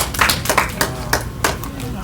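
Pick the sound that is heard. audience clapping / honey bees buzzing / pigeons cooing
audience clapping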